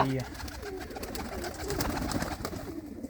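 Domestic pigeons at a Punjabi fancier's loft in Mahmoodpur give a few low coos at the start, then the sound gives way to a rough, continuous rustling wash with faint cooing beneath.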